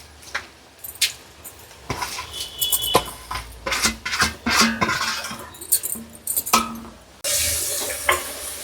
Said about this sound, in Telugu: ఇక ఉల్లిగడ్డలు వేస్తున్నా నేను.